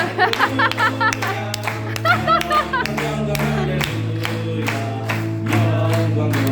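Church congregation at a Korean summer retreat clapping a rhythmic beat along to group singing, sharp regular claps over voices and a steady low tone, fairly close and lively.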